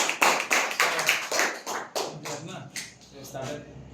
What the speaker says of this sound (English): Okay, clap for them.